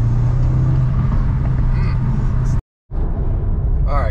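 Audi S3 driven around to warm up its oil, a loud, steady low drone of engine and road noise from inside the cabin, briefly cutting out before resuming.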